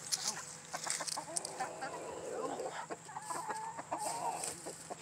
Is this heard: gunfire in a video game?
no